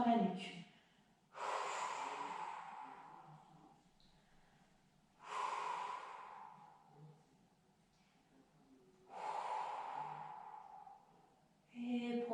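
Deep breaths during a Pilates exercise, heard as three long, airy exhalations at slow, regular intervals, close to the mic, with quiet pauses between them.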